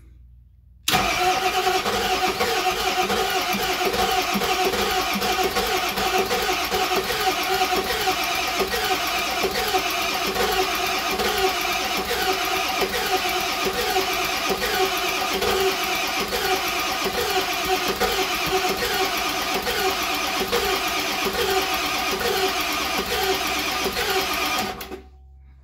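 A Ford 7.3 Powerstroke diesel engine cranks continuously with a steady rhythmic starter churn for over twenty seconds, loud and close, stopping abruptly without catching.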